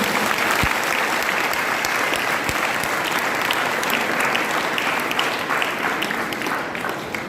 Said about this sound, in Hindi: अनमोल के लिए आप जोरदार तालियां बजाइए दोबारा